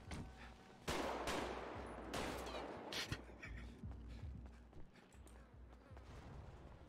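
Video game gunfire during a roleplay session, with several loud sharp shots and bursts scattered over a noisy background, some close and punchy, others lighter, mixed with faint voices.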